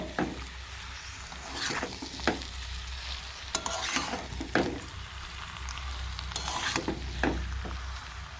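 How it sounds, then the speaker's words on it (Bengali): A spiced mixture of young jackfruit and shrimp is stirred and fried in a pan, with a low sizzle under frequent sharp spatula scrapes and knocks at an uneven rhythm, close and moderately quiet, with no talking. "মশলাটা দেওয়ার পরে এবার এটাকে আমি খুব ভালোভাবে একটু আবার সমস্ত সব কিছুর সাথে মিশিয়ে আবারও একটু কষিয়ে নেব"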